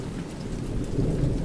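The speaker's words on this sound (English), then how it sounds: "as a crack of thunder, a flash of lightning as the storm starts hitting." Thunder rumbling through steady heavy rain as a storm begins, a deep low boom swelling near the end over continuous loud rainfall, with no voices.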